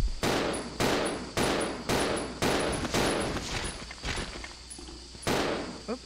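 Gunfire in the Resident Evil 0 HD video game: a string of loud, sharp shots at roughly half-second intervals, each with a short echoing tail, with a few softer thuds and a later burst.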